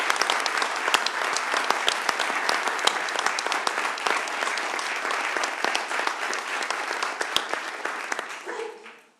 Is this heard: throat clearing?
no